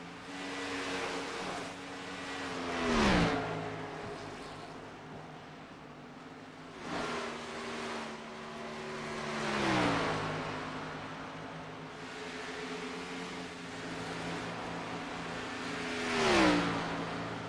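Side-by-side off-road racing vehicle engines rev and drone at a Texas memorial race, with several machines sweeping past in rising and falling passes over a steady mid-distance roar, no talk.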